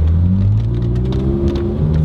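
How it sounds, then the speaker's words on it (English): A Ferrari 458 Spider engine with an Armytrix titanium exhaust revving with a deep, throaty exhaust note, steady and loud, heard from inside the car. "It does make a massive difference, the exhaust."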